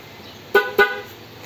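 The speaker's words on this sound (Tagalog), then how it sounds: "Okay, so yung busina nya, try natin yung busina." Two short, loud beeps from the horn of an M3 electric e-bike, sounded close up in quick succession against a quiet background.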